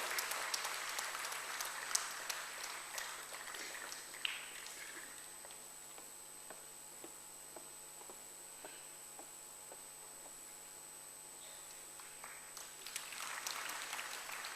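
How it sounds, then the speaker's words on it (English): Applause from an audience at an engineering society's annual sessions, loud at the start and end with sparse, quieter clapping through the middle, with no one speaking. "I'm sure we can put our hands together for a better round of applause"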